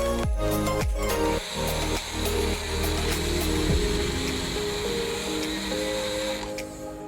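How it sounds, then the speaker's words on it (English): A blender grinds dry, coarse protein bar ingredients, starting with a few sharp stop-start bursts before settling into a loud, continuous whirring grind up close, with no talking. "Throw the dry, rough ingredients into a blender and blend it up until it's fairly fine"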